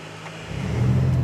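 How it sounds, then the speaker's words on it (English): The small, fuel-efficient three-cylinder engine of a 2020 Mitsubishi Mirage subcompact starts up: a brief cranking swell that settles into a steady, fairly loud low idle hum, heard close and alone. "let's start up this very small but fuel efficient engine"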